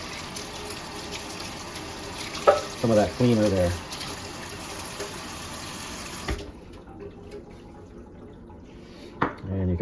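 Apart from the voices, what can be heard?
tap water rinsing Okki Nokki goat's hair record brush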